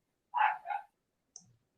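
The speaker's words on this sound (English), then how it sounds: "you're getting the wieners all excited. They're barking again." Two quick barks from small wiener dogs, fairly close and fairly loud, followed about half a second later by a short, fainter yip.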